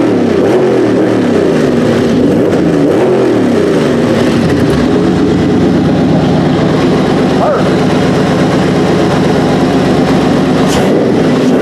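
A Pontiac GTO engine idles loud and close with a deep, steady rumble and slight wavering, brief swells suggesting light revs, as cooling fans kick on.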